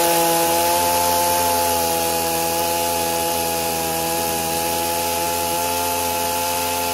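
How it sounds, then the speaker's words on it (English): A new chainsaw runs loud and steady, its engine droning at a constant pitch as it cuts a log, with no voices over it. "Nice clean cut with the new chainsaw."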